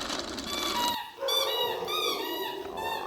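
Puppies whimper and yip in high, wavering cries close by, several overlapping little calls in quick succession.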